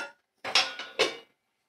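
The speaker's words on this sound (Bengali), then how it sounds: "দেখো লো ফ্লেমে রেখে আমি ঢাকা দিয়ে দিলাম" A lid goes onto a cooking pot on a low flame as a home cook makes a vegetable dish, landing in two close metallic clatters that ring briefly, loud and near, with no talk.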